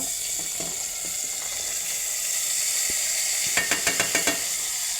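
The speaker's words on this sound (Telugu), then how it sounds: "ఉల్లిగడ్డ పచ్చిమిర్చి వేగినాయి ఇప్పుడు నేనైతే గోరుచిక్కుడు టమాటా కట్ చేసిన వేస్తున్న" Cluster beans and tomato tipped into a pan of frying onions and green chillies, a steady close sizzle with a quick run of sharp clicks and scrapes near the end.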